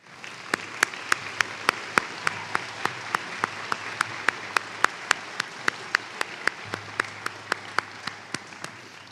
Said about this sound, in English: please stand so we can give you a round of applause